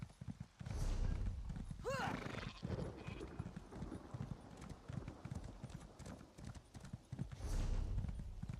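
Rhythmic clip-clop of galloping horse hooves runs through the clip, with a brief whinny near the start and game sounds layered around it, in the video game Elder Scrolls Online.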